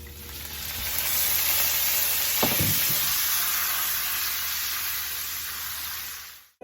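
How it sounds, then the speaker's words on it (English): Red wine poured into a hot pan of browned bacon hisses and sizzles steadily, a loud broad sizzle sustained throughout with a brief stir or clatter partway through, no talking. "now I'm gonna deglaze the pan with some red wine"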